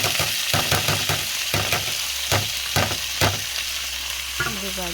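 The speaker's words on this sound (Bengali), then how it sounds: "এই দেখো ডাল দিয়ে ভাজুন।" Lentils frying in a pan with tomato, green chili and onion: a steady sizzle under a loud, rhythmic run of spatula scrapes and stirs, close and continuous.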